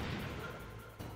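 Missile explosions in the video game Metal Gear Solid: a dense, rumbling blast texture that carries through the whole moment, dipping slightly before another low burst near the end.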